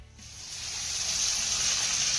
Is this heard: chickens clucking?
no